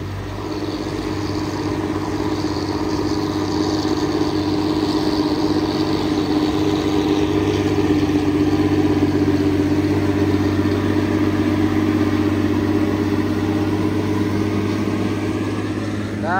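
Cars overtaking a Hino truck on an uphill road: a steady, loud engine drone and low rumble of heavy traffic that swells slightly midway, continuous throughout with no voices.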